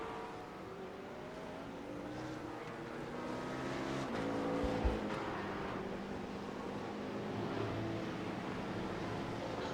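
BMW and McLaren race cars run at VIR during an endurance series race, their engines a continuous distant roar that swells slightly midway, with a brief sharper burst around the middle and no talk.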